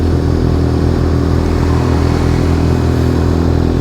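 Sportbike motorcycle engine working hard through repeated wheelies and first-gear clutch pumps, a loud, dense, continuous roar close to the microphone with no talking.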